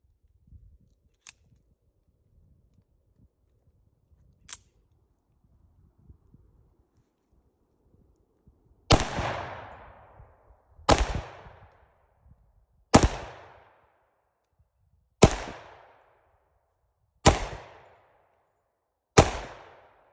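A Rock Island Tac Ultra MS 10mm 1911 pistol fires outdoors. After quiet handling, six loud single shots ring out about two seconds apart, each with a short echoing tail, and there is no speech.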